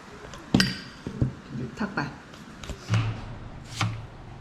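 A knife slices potatoes for chips on a cutting board in several uneven, sharp knocks, close by, with light kitchen clinks between strokes.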